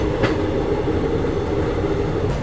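Okha Shalimar Superfast Express train running in an ICF first AC coach near Bilaspur Junction, with a steady rumbling clickety-clack of wheels over rail joints, loud and close throughout.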